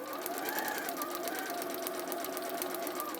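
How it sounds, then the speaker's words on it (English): A sewing machine stitches steadily along dotted lines, its rapid needle rhythm running continuously and close up throughout. "I'm sewing on the dotted lines"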